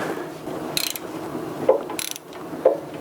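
Ratchet loosening 10 mm bolts on a 6.2L diesel engine during teardown, with a few quick clicking pawl bursts and small metallic knocks over a faint room background, no voices.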